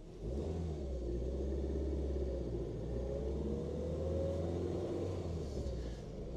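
A 1972 Renault 12 Break estate pulls away in first gear, its engine note rising steadily under a continuous low rumble heard from inside the car, with no speech.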